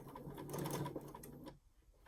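A sewing machine runs a short burst of back stitching on a fabric face mask, a steady close whir for about a second and a half before cutting off into quiet.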